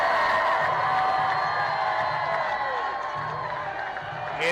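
Football stadium crowd cheering and roaring after a touchdown by FAMU against West Virginia State, a broad sustained wash of noise with whoops, while an announcer talks over it.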